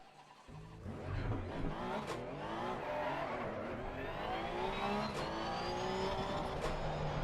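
A Porsche race car in Assetto Corsa Competizione revving hard and accelerating, engine pitch climbing through gear changes with tyre squeal and skids, loud and continuous with no talk.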